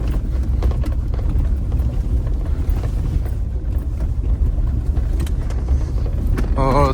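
A Ford Raptor pickup truck drives with a loud, steady low engine rumble and road noise close by, running continuously throughout.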